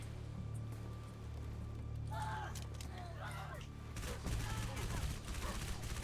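Assault rifle fire in a modded Halo 3 game, a dense, continuous rattle of rapid shots under steady ambient noise, growing heavier toward the end, with some brief talk mixed in.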